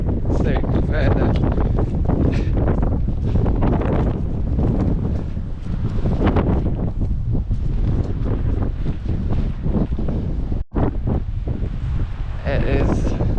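Strong wind buffets the microphone in a steady roar with gusty swells, broken by one brief dropout.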